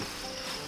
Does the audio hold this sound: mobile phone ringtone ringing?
no